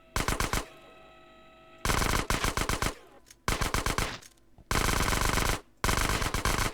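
An Uzi submachine gun in the game GTA San Andreas fires in loud, sharp automatic bursts, four or five rapid volleys split by short pauses, with no talk over the shooting.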